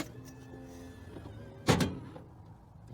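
Kwikee electric RV step retracting with its 14 Newton meter motor, a brief motor whir ending in a single solid clunk, then quiet.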